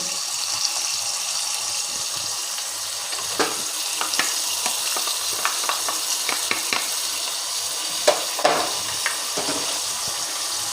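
Chili powder, salt and turmeric sautéing in a pan for a wild karonda chutney, a soft steady sizzle with scattered spoon scrapes and stirring clicks, close and without talk.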